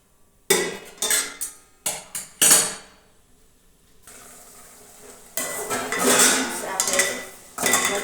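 A metal lid is set on a pot of vegetable curry cooking on the stove, with a series of loud, close clanks and knocks against the rim, followed by a steady low sizzle of the frying vegetables.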